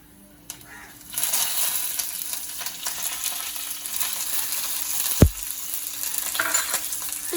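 Dried red chillies and curry leaves hit hot oil in a clay pot, bursting into a loud sudden sizzle that settles into a steady crackling hiss, with a single sharp knock partway through.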